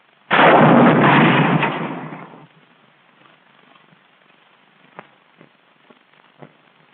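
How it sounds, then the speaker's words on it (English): An M6 anti-tank rocket strikes a tank with a heavy, close blast. The roar decays over about two seconds, followed by faint scattered pops and crackles in the quiet that follows. "This is what happens to a tank crew when a rocket hits."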